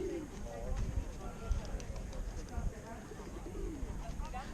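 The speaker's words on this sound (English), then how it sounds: "Lots of birds." Pigeons cooing nearby in Regent's Park, London, low soft repeated coos over outdoor background noise and distant activity.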